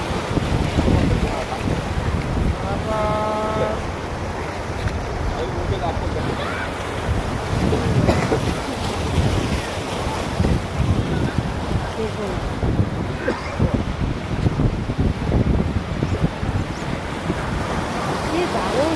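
Waves roll and break along the seashore at Digha Mohona while gusty wind rumbles against the microphone, a constant loud surf wash with faint distant voices and a brief tonal whistle early on.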